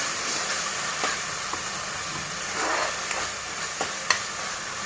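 Ginger garlic paste frying in oil over high heat gives a continuous, even sizzling hiss, joined by a few soft scrapes and taps from stirring.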